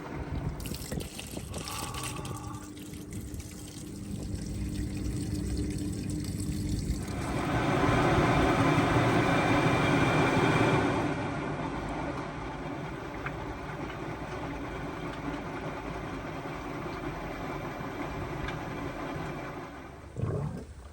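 A Hotpoint ActiveCare washing machine on spin with only water inside gives a steady rushing drone that swells louder midway, then settles into a continuous whirr before a brief knock at the end.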